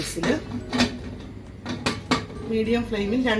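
A pressure cooker lid is handled with several sharp metallic clanks and knocks close by, while a voice talks over the clatter.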